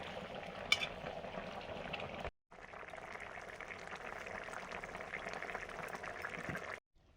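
Chital fish curry with potatoes and green chillies bubbling and sizzling in oil in a pan, a steady close simmer that cuts out briefly midway and stops near the end.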